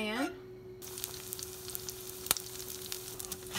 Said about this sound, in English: you start with some butter